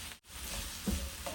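Tomato, carrot, capsicum and cabbage sauté in a hot pan for a noodle stir-fry, giving a steady close sizzle with a brief stir scrape and a short dip partway through.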